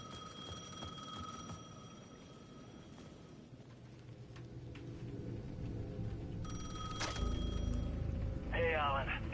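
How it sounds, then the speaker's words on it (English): A payphone ringing in the video game Alan Wake 2, repeated bell-like trills over a low ambient drone, moderately loud, with a spoken voice and electronic tones near the end. "The payphone at the edge of the plaza was ringing again."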